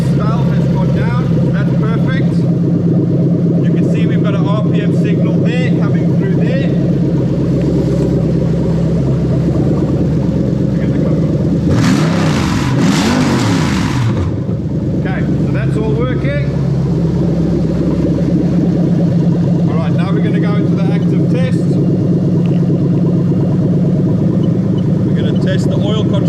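A Lexus 3UZ-FE V8 engine fitted in an IS200 runs at a steady idle, giving a loud, constant mechanical drone with a brief hissy burst partway through, while someone talks over it throughout.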